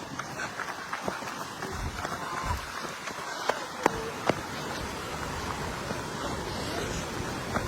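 Water rushes steadily at Koheda waterfalls on a foggy morning, a broad continuous roar heard from some distance while footsteps and a few sharp knocks come through.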